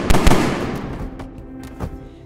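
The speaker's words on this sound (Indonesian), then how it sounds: "Ternyata itu adalah tembakan dari David yang berhasil melepaskan diri." Gunfire in an action film: two sharp, loud bangs in quick succession, then a few fainter cracks trailing off over the next couple of seconds.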